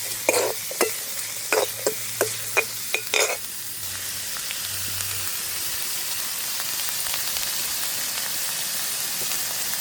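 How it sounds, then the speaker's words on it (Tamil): Onion and green chilies sautéing in a little oil in a pan for samosa filling, a steady soft sizzle with several sharp stirring scrapes near the start, then continuous frying hiss. "ஒரு கொஞ்சமாக இந்த வெங்காயம் பச்சை மிளகாய் வதங்குறது கொஞ்சமாக எண்ணெய் விடுறேன் லேசாக வதக்கி எடுக்க போகிறேன்"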